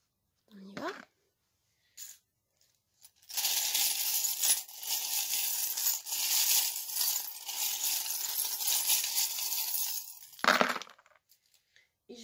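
Divination charms cast onto a surface for a Taurus reading, a long scattering rattle of small clattering objects lasting several seconds, close and fairly loud, with a few brief handling sounds before and after.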